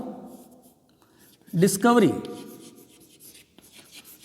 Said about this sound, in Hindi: यहां पर मैं नाम लिख देता हूं.